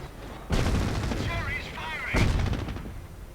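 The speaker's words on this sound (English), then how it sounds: "We've just got the green light to employ creeping barrages." Creeping artillery barrage in a 1v1 strategy war game, heard as two loud, sharp bursts of explosions with a rolling rumble between them and whistling shells faintly overhead.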